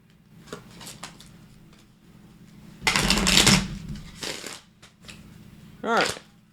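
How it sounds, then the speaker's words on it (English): Oracle cards being shuffled for a Pisces tarot reading, giving a burst of loud riffling papery flutter in the middle, followed by shorter card rustles and soft handling sounds close to the microphone. "Let's see, one more shuffle."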